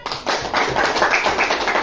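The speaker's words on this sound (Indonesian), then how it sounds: "tepuk tangan" Students in a classroom clap their hands together, a short burst of quick, loud claps in a roughly steady rhythm lasting under two seconds.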